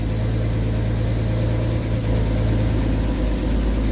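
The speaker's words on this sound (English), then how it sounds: "Now we got the engine running." A Hillman Scamp car's engine idles at close range, a constant loud low rumble with steady pulsing, unbroken and with no one speaking.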